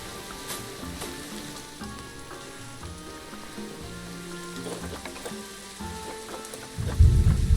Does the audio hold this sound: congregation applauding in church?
no